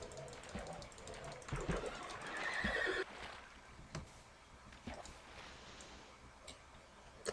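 A horse neighs in a Minecraft-style YogsBox adventure game, a loud whinny swelling over the first three seconds, followed by quieter scattered clicks and taps.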